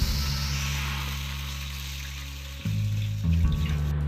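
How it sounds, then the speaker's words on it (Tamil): Banana leaf juice for halwa pours steadily into a pan, a continuous watery rush with a low hum beneath, shifting twice as the flow changes. "இப்போ இதே பேனில் நம்ம எடுத்து வச்ச ஜூஸை ஆட் பண்ணிக்கலாம்."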